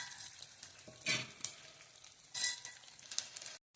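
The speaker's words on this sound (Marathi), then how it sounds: "कढईमध्ये तूप गरम करून त्यामध्ये डिंक तळून घेणे।" Edible gum frying in hot ghee in a kadhai, a soft crackling sizzle broken by short bursts of louder spattering and a few light stirring clinks, quiet and close.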